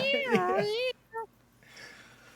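A cat meows once, close and fairly loud, in a long drawn-out cry that bends in pitch, followed by a short soft chirp and then quiet room noise.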